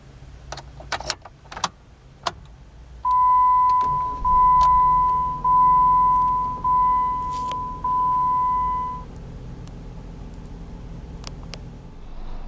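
Keys jingle and clicks sound near a 2013 Jeep Compass Altitude, then a steady electronic chime beeps repeatedly for several seconds before the remote-started engine settles into a low, even idle.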